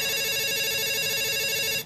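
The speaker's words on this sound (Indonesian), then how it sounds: "Eh ada suara telepon" A telephone rings steadily and loudly for about two seconds, its tonal electronic ringing sustained without a break, with no voices over it.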